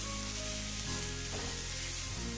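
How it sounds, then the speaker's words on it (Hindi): Amchur powder is stirred into a vegetable filling for a street-food pudla sandwich in a hot pan, with a loud, continuous close sizzle and a brief scrape of the stirring midway. "अच्छे से मिक्स कर लेंगे।"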